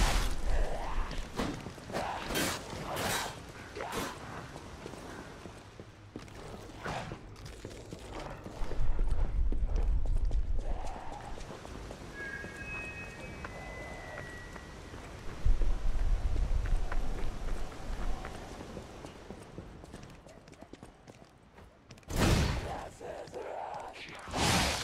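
Horse hooves clip-clopping in the video game Lies of P, a run of quick, sharp clops in the first seconds, with whooshing movement and thuds later, fairly close and moderately loud.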